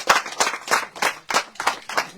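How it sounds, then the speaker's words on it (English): An audience at a building handover ceremony for a 91-year-old man claps in loud, close bursts that come in a loose repeating rhythm of about seven pulses. "Let's give him a round of applause"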